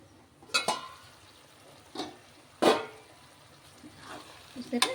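Drumstick (moringa) pieces fry in a pan with a soft sizzle, broken by a few scattered scrapes and clinks of a utensil stirring against the pan, close and fairly quiet.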